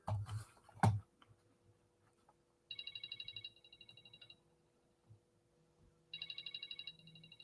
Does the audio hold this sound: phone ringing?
yes